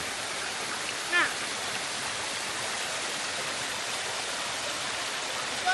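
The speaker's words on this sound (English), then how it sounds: "Oh yeah, the water's running that way, isn't it?" Running water of an outdoor stream makes a steady, close, unbroken rush that fills the whole stretch, with a brief faint voice near the start.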